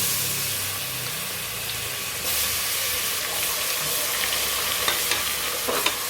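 Garlic sizzles and fries in hot oil in a pan with whole spices while cooking Ambur chicken biryani, a loud, dense, continuous crackle with occasional stirring scrapes, close up throughout.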